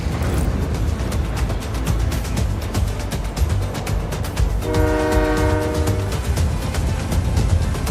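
A train in the video game Just Cause 4 rumbles along with a steady, rhythmic clatter. Partway through, a loud horn sounds for about a second and a half.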